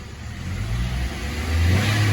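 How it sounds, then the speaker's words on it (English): A Nissan Altima engine, running after a throttle body replacement for a P2101 code, revs gently from idle, its steady close hum rising in level toward the end. "Revving it up a little bit."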